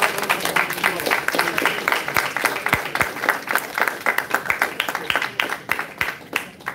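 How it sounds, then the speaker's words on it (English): A seminar audience gives a round of applause, a moderately loud burst of many hands clapping with distinct individual claps standing out, steady for several seconds and thinning toward the end, while a voice talks over part of it. "Let's give it a round of applause."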